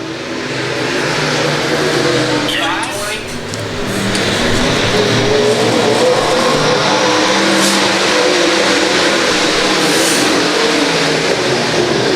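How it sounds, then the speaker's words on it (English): Race cars roaring around the dirt track at L A Raceway, a loud continuous engine drone that rises and falls as the cars pass, with no talk over it. "And Justin Moon around in the 112 car"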